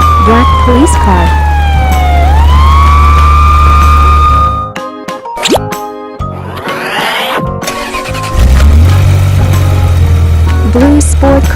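A black police car siren sweeps down in pitch and then holds loud and near over engine rumble, interrupted by a burst of whooshing, clattering effects before the engine drone returns.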